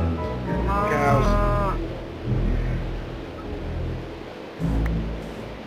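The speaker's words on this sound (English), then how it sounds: "Cows." Cows mooing in the Minecraft video game, one long wavering moo up front followed by softer lowing grunts, with a person talking over parts of it.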